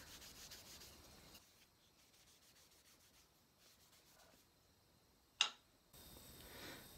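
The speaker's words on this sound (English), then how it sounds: "But you just apply it, rub it in." Oil is rubbed by hand into freshly made wooden utensils, giving a soft, steady scrubbing hiss that pauses now and then. A single sharp tick stands out near the end of the quiet, close rubbing.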